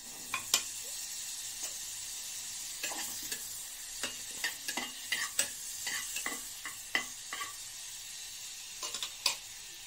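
Butter sizzles softly in a preheated pressure cooker, with a low steady hiss punctuated by scattered light clicks and taps of a utensil against the pot.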